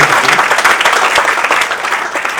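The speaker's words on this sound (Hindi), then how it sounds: "एक बार जोरदार तालियां बजा सकते हैं" Loud, enthusiastic audience applause at a ghazal poetry and music evening, dense crowd clapping that fills the whole stretch and fades slightly toward the end.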